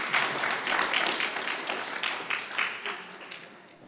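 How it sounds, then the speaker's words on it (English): An audience at the 2015 Ottawa Hills Academic Hall of Fame awards ceremony claps for an honoree who is absent, a dense and steady round of applause that carries on for several seconds and eases off slightly toward the end. "If we can give her a round of applause"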